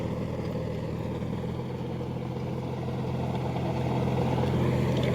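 A John Deere 5050D GearPro 4WD tractor engine runs in a muddy field, a close, steady diesel drone that holds without a break.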